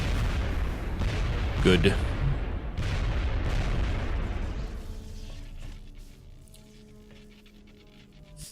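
Super rocket launchers fire in XCOM: Enemy Unknown, a loud, heavy booming blast that rumbles for several seconds and then fades to quieter background, with a voice speaking briefly during it.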